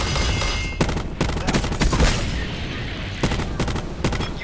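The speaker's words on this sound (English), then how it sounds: "What is this kid shooting?" Gunfire in Call of Duty: Black Ops 4, a Domination match on the Seaside map, with dense bursts of rapid shots and sharp cracks repeating over a constant loud game din.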